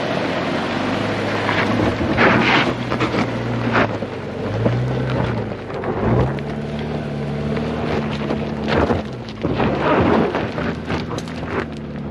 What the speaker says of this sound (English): Bit of wheel slip. Crosstrek powers up.